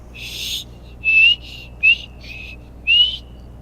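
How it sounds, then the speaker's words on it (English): A player character in Skyrim, using the Convenient Horses mod's whistle dialogue, whistles at an NPC: five or six short, thin, shaky whistle notes in uneven bursts, clear and close with nothing else around. "pretty much any NPC, it'll let me whistle at them"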